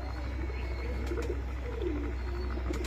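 Pure white pet pigeons coo softly close by, low rolling burbles repeating over a steady low background hum, no talking.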